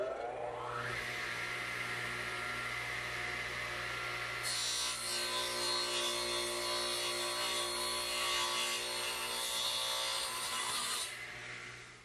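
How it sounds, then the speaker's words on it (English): A radial arm saw runs up to speed, then its blade bites into wood backed by plywood, producing a sustained loud whining cut for several seconds before the pitch drops and the motor winds down. "So I'll just slide it over and run the saw through."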